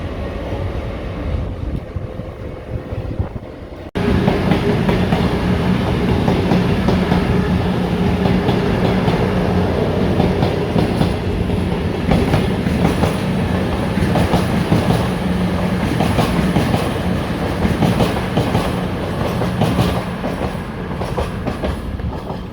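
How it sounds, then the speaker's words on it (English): An LNER Azuma train rolls into York Station, first a quieter rumble, then a sudden loud, sustained roar of wheels and motors with rhythmic clatter on the rails, close by and continuous throughout. "LNER Azuma, entering York Station."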